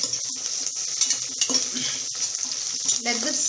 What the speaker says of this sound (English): And saute this well again.